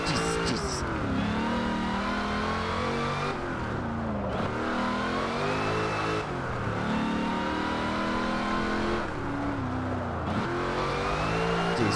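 Race cars at Bathurst in Forza Motorsport 7, a Ford versus Holden battle, roar continuously and close, the engine revving up and dropping through gear changes in repeated surges, with occasional tire squeal.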